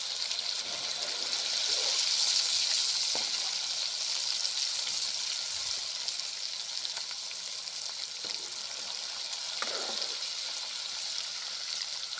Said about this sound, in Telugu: ఇప్పుడు ముక్కల్ని నూనెలో వేస్తారు